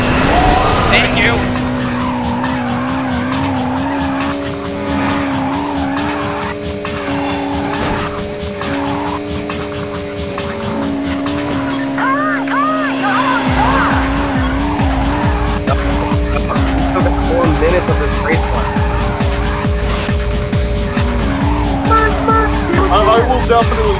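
Race cars roar and tires squeal repeatedly in the video game Midnight Club 2, engines revving loudly and continuously with skidding bursts throughout, while a voice talks over the action.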